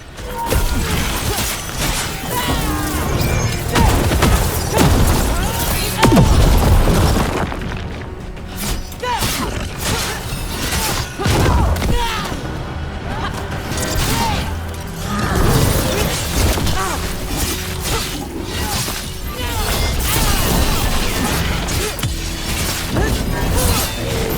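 Mortar explosions in the video game Dragon Age: The Veilguard: repeated heavy booms, thuds and crashing impacts over a dense, continuous battle soundscape lasting the whole stretch.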